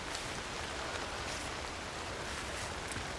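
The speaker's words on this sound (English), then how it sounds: "Of course it is raining." Rain falls in the climbing video game Cairn, a soft, even hiss of drops that continues without pause and stays quiet throughout.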